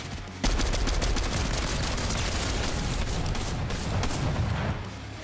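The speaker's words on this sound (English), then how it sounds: "the fucking shotgun you're using is a more loud gun" Loud, sustained barrage of gunfire from a shotgun in a multiplayer video game, dense booming shots running almost continuously for several seconds with no pause.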